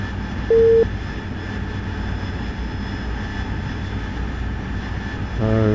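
Jet aircraft engine drone in a DCS World combat flight simulation, a steady loud cockpit whine and rumble with a brief electronic tone near the start and a beeping tone at the end.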